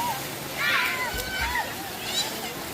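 Water in a large creek splashes and rushes steadily close by, while voices, including a child's, talk over it throughout.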